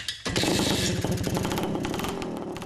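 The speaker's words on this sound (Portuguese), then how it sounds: "Uma motocicleta dos anos 70, com 35 cavalos, menos de 100 quilos." A 1970s motorcycle of 35 horsepower and under 100 kilograms revs hard and steady close by, a loud rattling two-stroke-style buzz that holds for a few seconds.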